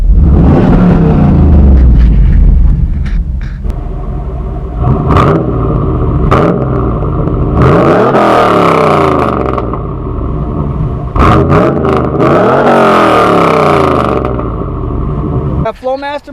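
A 1994 Pontiac Trans Am Ram Air with an LT1 V8, Flowmaster mufflers, cold air intake and vented OptiSpark starts and revs loudly and close, with deep rumbling rises and falls. A person talks over parts of it.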